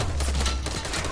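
A sniper rifle shot in a video game, a loud sharp blast with a booming low-end tail, followed by a dense burst of overlapping impacts and gunfire-like crackle filling the short moment.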